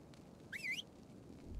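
A single whistle emote from the video game Ark: Survival Evolved: one short, bright whistled tone that rises and dips, heard over a faint, quiet background.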